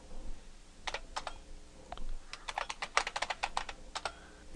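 Keyboard typing of a terminal command on a computer, a few light clicks and then a quick run of keystrokes, close and clear with no talking.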